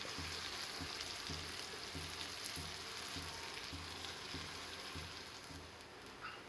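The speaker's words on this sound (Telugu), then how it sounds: "తర్వాత మనం నానబెట్టుకున్న బొరుగులను వేయాలి. వేసి కలపాలి." Soaked puffed rice sizzling and frying in a hot pan with oil tempering, steady crackling sizzle throughout with faint stirring, close and fairly loud, no talking.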